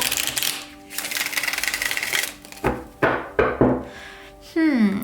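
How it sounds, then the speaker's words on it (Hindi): Tarot cards being shuffled by hand, a fast rattling riffle followed by several separate sharp slaps and taps of the deck, close and fairly loud, ending in a brief bright tone. "शफल कर लेते हैं कार्ड्स को ऑप्शन 3 के लिए"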